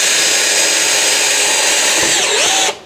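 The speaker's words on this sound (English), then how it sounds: "watch what happens when you drill through a panel into this recycled bottle insulation" A power drill whines continuously and loudly up close as it bores through a camper van panel into recycled plastic bottle insulation, its pitch shifting near the end before cutting off abruptly.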